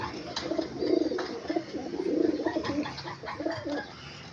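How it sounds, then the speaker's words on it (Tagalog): Paired Taiwan-bred pigeons in a breeder's loft coo in repeated low, throaty rolling phrases, close and clear over a quiet room. "So ito naman mga bagwis is Taiwan bird na pinares natin dito."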